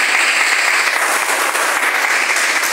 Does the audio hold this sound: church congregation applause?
yes